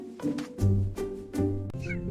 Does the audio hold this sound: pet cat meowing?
yes